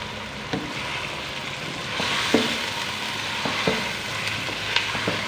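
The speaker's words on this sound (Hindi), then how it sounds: "वाइट होने तक चिकन को भून लेंगे।" Chicken pieces fry in a pan for a chicken and masoor dal dish, with a steady close sizzle broken by a few sharp scrapes of stirring, and no talk.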